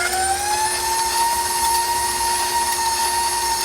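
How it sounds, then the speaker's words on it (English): An electric mixer runs steadily while beating eggs into Kentucky butter crunch cake batter, a loud, continuous motor whine with a rising pitch at the start that then holds level, close up and with no talking. "I'll just leave the mixer on for this."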